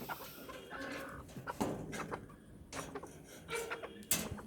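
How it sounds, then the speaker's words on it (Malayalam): Lively backyard chickens cluck and squawk nearby in a scattered, irregular rhythm, a few louder calls standing out over a low outdoor background. "നല്ല ആക്റ്റീവായ കോഴികളാണ്"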